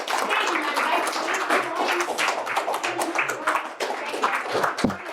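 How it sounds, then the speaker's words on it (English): An audience at a metal cutting and tool life presentation gives a round of applause, with many overlapping claps that are fairly loud and sustained for several seconds, and a few individual claps standing out near the end. "So big round of applause."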